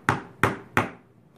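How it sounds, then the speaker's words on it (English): Small nails tapped into miniature dollhouse wood: three sharp, close hammer taps at an even pace, each with a short decay. "make sure they're straight, and then tap them in the rest of the way."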